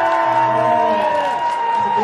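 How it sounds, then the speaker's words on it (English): Short burst of cheering from an audience at a beetleweight robot combat event, a loud crowd shout that swells and then tapers. "That's a big cheer."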